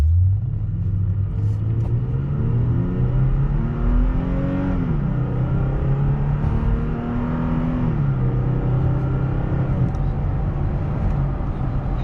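A 2016 Toyota Tacoma TRD Sport 4x4 pickup truck accelerating hard, loud close engine roar climbing in pitch through two gear shifts, heard from inside the cab with no talking.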